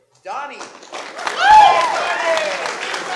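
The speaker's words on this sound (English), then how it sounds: "Round of applause." A theatre audience applauds at a curtain call for a staging of Charley's Aunt. The clapping swells quickly into a full, steady round under a voice speaking over it.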